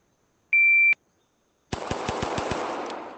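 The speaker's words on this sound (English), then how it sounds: "We want to fire 6 shots center of mass" Simulated pistol fire from the ACE VR shooting game during an Air Marshal qualification drill: a single electronic start beep, then a pause, then six rapid, evenly spaced sharp shots over a loud noisy bed, with no talking.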